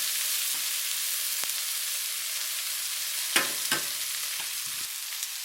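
Chopped green onion sizzles in a hot pan while cooking down for a shrimp dish with ginger, onion and garlic sauce: a steady close frying hiss broken by a few sharp stirring clicks and scrapes.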